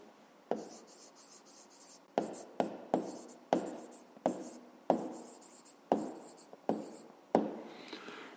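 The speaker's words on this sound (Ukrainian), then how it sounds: "Я записуємо відповідь." Pen strokes on paper come close and quiet as an answer is written down, a series of about a dozen short scratching marks in irregular rhythm with brief pauses between.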